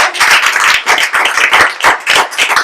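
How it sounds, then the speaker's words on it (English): A small audience claps at an evening storytelling event, a loud, close patter of individual hand claps with distinct uneven bursts and brief gaps, no voices heard. "I want to give a big round of applause to everyone here."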